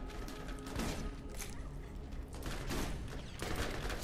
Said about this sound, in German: Nein, das ist ein Maschinengewehr.